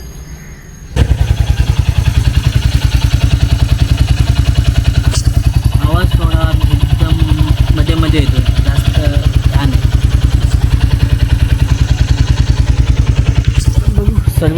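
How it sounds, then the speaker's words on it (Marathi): A car engine starts up after a moment of quiet and runs with a loud, steady rhythmic clatter close by, with brief voice sounds in the middle. "थोडं गाडीचा आवाज येतो आहे इंजिनमधून"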